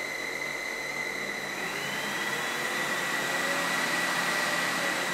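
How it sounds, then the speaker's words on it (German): A Sebo Felix 1 upright vacuum cleaner runs with a steady, smooth whirring motor hum and a faint high whine, unbroken throughout, fairly quiet and constant. "Sie hören, wie leise der Sebo-Staubsauger trotz seiner enormen Leistung noch arbeitet."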